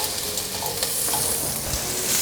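Carrots stir-fry with king oyster and enoki mushrooms in a hot oiled wok, making a short stretch of steady sizzling with light scraping from stirring, close and continuous.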